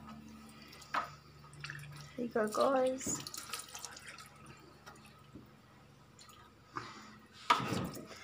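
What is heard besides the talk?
cold water being added to pesto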